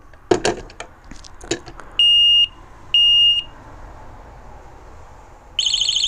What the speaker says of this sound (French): Donc l'alarme elle est quand même assez puissante